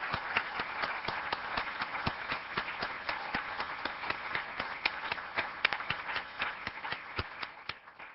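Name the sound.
audience applause for board members at annual meeting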